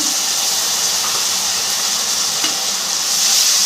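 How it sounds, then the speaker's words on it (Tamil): Ground onion paste sizzles and fries steadily in hot oil for a fish curry, a loud, continuous hissing crackle close to the pan. "அரைத்து வைத்த வெங்காயம் சேர்த்துக்கலாம்"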